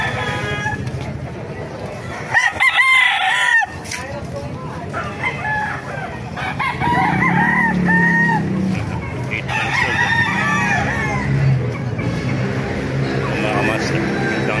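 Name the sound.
roosters crowing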